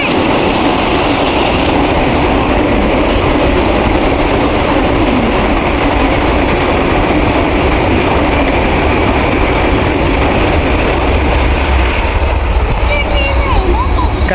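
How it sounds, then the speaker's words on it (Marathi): A train pulls into a station with a loud, continuous rumble and rattle of wagons, faint squeal of wheels, and crowd noise throughout. "ट्रेन आलेली आहे आणि लोक कशी धावत आहेत ट्रेनसाठी"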